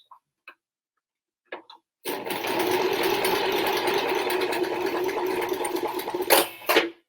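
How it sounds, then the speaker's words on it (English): A domestic sewing machine stitches through a hessian plant pot, running in a steady fast mechanical whir after a few faint taps, then stopping with a couple of louder knocks at the end. "I'm going to stop before I break my sewing machine"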